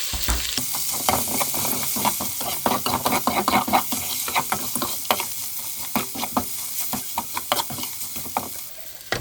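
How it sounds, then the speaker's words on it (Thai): Chili curry paste sizzles and fries in a pot while a utensil stirs and scrapes repeatedly, producing an uneven patter of clicks over a steady hiss. "เดี๋ยวเขาก็จะคั่วพริกก่อนเนาะ"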